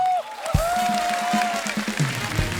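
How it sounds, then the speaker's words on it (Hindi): Studio audience applause on The Kapil Sharma Show, a steady patter of clapping held throughout at moderate loudness, with a sustained musical tone and a few percussive hits layered over it. "हमारे सुपरस्टार्स के लिए जोरदार तालियां"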